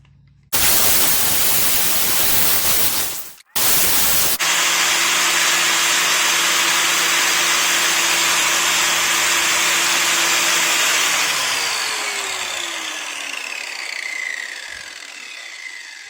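An angle grinder runs along a metal axle shaft, stripping the galvanizing for a wooden cart wheel, a loud steady broadband whine after a brief stop and restart, slowly fading near the end.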